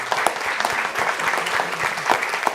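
A board meeting audience applauds briefly, with individual claps distinct and fairly close, steady rhythm throughout the short burst.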